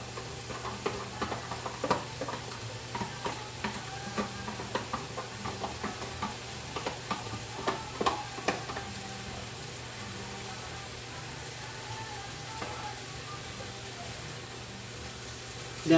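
A small yellow onion hits a hot pan and sizzles, with stirring scrapes and clatter over a steady low background hum, busy at first then settling into a softer continuous fry.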